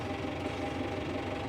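A small-to-medium farm tractor engine runs steadily, a low, fairly quiet rumbling idle with an even mechanical throb and no talk over it.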